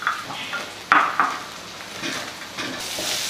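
Pirandai (adamant creeper) sautés in a pan with a soft ongoing sizzle, interrupted by a couple of sharp utensil knocks and scrapes against the metal, near and moderately loud.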